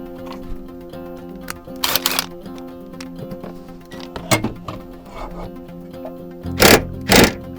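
Screws are driven tight on a jump seat being installed in a Sprinter van, heard as a few short, sharp bursts of mechanical whirring and rubbing over a steady low hum, with two louder bursts near the end.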